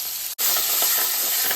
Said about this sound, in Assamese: এয়া বাটাৰ দি দিছোঁ অকণমান কেৰাহীতে আৰু মটৰ কেইটামান দি দিছোঁ